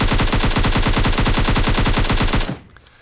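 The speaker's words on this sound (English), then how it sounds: "we're going to light this guy up with the compensator" Rapid sustained automatic fire from an AKM rifle fitted with a compensator in PUBG Mobile, a steady stream of loud, close shots for over two seconds before cutting off abruptly into a brief fading tail.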